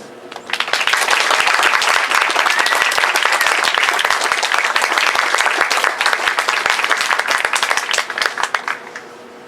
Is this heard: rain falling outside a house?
no